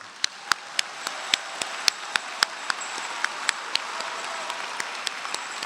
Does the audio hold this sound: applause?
yes